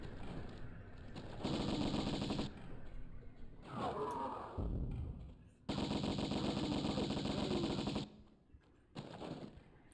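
Uzi gunfire in Tomb Raider Remastered, long rapid bursts of automatic shots in a fast rattling rhythm, broken by short pauses and a brief other game sound.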